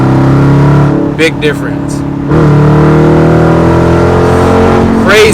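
Dodge Challenger with active exhaust growls loudly at low RPM, then the throttle is punched and the engine revs up sharply before settling, with a brief spoken remark partway through.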